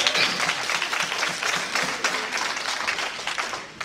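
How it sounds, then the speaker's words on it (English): Congregation in a church clapping hands in praise, a dense, steady patter of many hands carrying on for a few seconds at a moderate level with no talk over it. "give the Lord a hand clap of praise"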